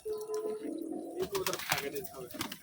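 Giribaj pigeons coo in a loft in Rajshahi, a soft low rolling call that sounds close by, with people talking over it and other background chatter.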